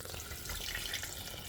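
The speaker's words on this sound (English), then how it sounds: "I'm going to add some water to my pot right now" Water streams steadily into a cooking pot for a barbecue jerk pigtail dish, a soft, continuous splashing pour heard alone and close.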